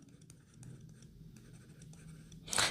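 A pen scratches across paper while quadratic equation working is written out in a class 10 maths lesson, in quick irregular strokes with short pauses, then a louder rustle at the end.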